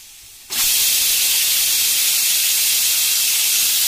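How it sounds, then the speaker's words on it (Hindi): After a brief quiet moment, a pressure cooker cooking vegetables suddenly bursts into a loud, sustained hiss of escaping steam that continues unbroken to the end. "कुकर तो सीटी भी बच गया।"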